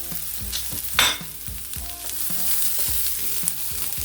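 Lemongrass and tomato frying in oil with ginger and chili while being stirred, giving a continuous sizzle under repeated scraping strokes and one brief louder burst.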